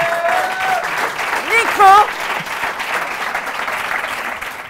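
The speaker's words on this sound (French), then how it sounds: "mesdames et messieurs, vous venez d'applaudir ce soir" A studio audience on a French evening game show applauds the night's winner, steady clapping filling the whole stretch while a host speaks over it.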